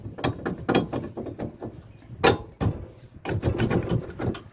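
Metal bolt dropped through a Ford/Ferguson tractor radius rod, with clanks, rattles and clunking of parts in uneven bursts, one sharp knock standing out midway, close and fairly loud.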